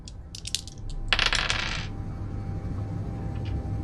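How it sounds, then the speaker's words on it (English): Dice rolled in the Space Engineers game clatter in a quick series of bright, hard clicks and rattles that settle after about a second, close and clear with no talk. "So now we roll the dice and see where it sends us."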